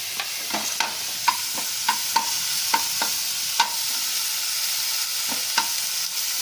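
A utensil stirs and scrapes through mashed flat beans with shrimp in a hot pan, with irregular clicking knocks over a soft, constant sizzle and no talking.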